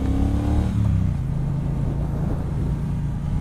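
A 2018 Triumph Bonneville Speedmaster motorcycle engine droning steadily while riding, loud and close with a deep, rumbling low tone and rising rev notes at the start, mixed with wind noise.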